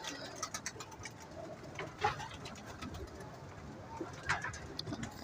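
Soft pigeon coos rise now and then from a fancier's kept pigeons under a large net loft in Dhrampura, faint and a little distant, with quiet background murmur.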